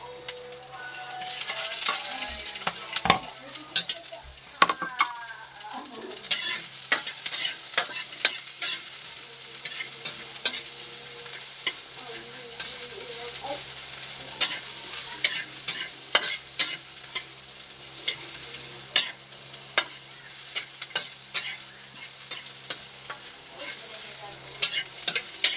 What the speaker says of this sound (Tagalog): Papainit na tayo ng kawali. Sibuyas, halo na natin ito.